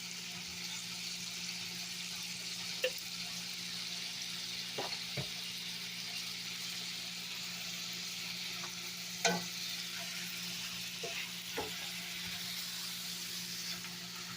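Lamb chops braise in a pan with a teaspoon of minced garlic, a soft, even sizzle and bubble running steadily, broken by a few faint utensil taps and scrapes.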